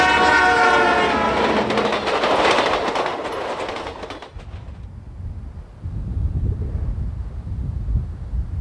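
An Alaska Railroad passenger train sounds a loud horn with a rumble of wheels. The horn cuts off partway through, leaving the quieter, steady roll and clatter of the train passing close by.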